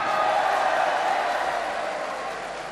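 Sustained crowd noise from delegates at a PKB party congress in Bali, a dense and steady wash of clapping and cheering that holds loud and then eases slightly toward the end.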